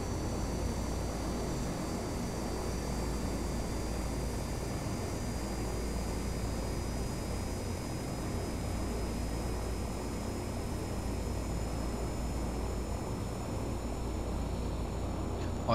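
Simulated airliner engine spooling up during a start in the Prepar3D flight simulator, a steady broadband cabin roar with a faint high whine slowly rising in pitch, no talk.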